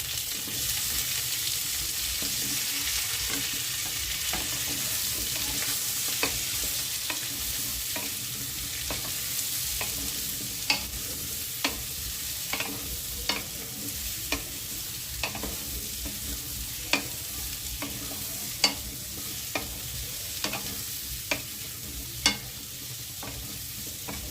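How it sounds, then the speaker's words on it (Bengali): Small pieces of bottle gourd sizzle steadily in hot oil while a utensil scrapes and taps the pan at regular intervals, close up and without voices. "ছোট সাইজ করে কেটে রাখা লাউগুলো ভাজার জন্য দিয়ে দিচ্ছি"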